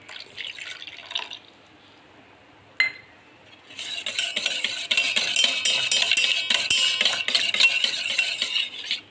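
Oil, sugar and milk are beaten together into an eggless cake batter, a brief clink and then a steady, fairly loud scraping and whisking that runs unbroken through the second half.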